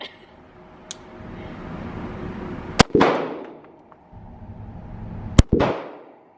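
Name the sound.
SIG handgun being fired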